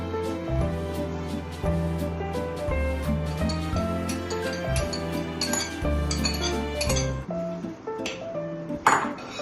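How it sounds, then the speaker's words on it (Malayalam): A spoon stirs garlic pickle masala with added garlic cloves in a pan, giving repeated light metallic clinks and taps against the pan over a steady tonal background hum. "ഒന്ന് നന്നായിട്ട് ഇളക്കി കൊടുക്കാം"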